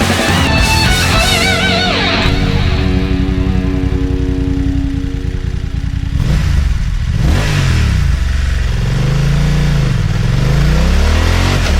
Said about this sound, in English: The sound coming from its standard exhaust is bassy